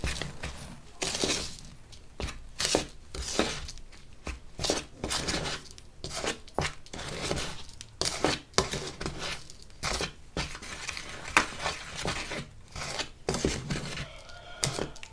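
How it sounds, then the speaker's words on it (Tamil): Organic henna paste is stirred and mixed by hand in a bowl, giving a continuous close, wet, scraping and squishing texture with rhythmic strokes and no talk over it. "இப்போ இதை நல்லா கலந்து விட்டுக்கலாம்."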